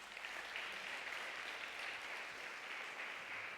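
A church congregation applauds during a sermon, a steady wash of many hands clapping, sustained and fairly distant.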